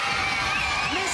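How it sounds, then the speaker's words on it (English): A children's television studio audience cheers and shouts in a brief, loud, continuous burst of excited young voices. "Let's hear a huge cheer for the Oogie Boogie plants."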